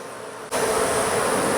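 Bees swarm over frames in a hive, a dense loud buzzing that starts suddenly after a brief quiet moment and holds steady and close.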